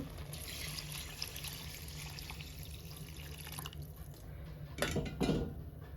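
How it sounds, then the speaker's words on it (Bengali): Water runs steadily into a cooking pot of rice that has soaked for an hour, a continuous splashing trickle with two brief louder gushes near the end. "ওখানে পানি দিলাম পরিমাণ মতো"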